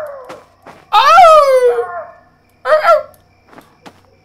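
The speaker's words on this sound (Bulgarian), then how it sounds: "Кученца, вълци, каквото сте?" Dogs or wolves barking and howling in a video game, a loud close drawn-out howl followed by a shorter yelping cry, with faint thuds between them.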